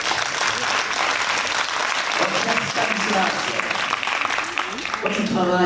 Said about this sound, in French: Alors, applaudissez-le.